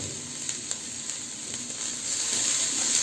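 Chopped ginger pieces hiss and crackle in hot oil in a pot for chicken soup, a steady close sizzle with a few faint clicks of stirring that swells slightly louder toward the end.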